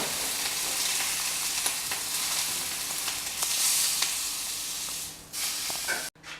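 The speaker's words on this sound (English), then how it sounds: "This is my second steak here that I'm doing on both sides, just caramelizing the sides." A steak sears in a very hot pan, its sides caramelizing under a loud, steady sizzle with occasional crackles, ending in a brief sharp knock as the pan or meat is moved.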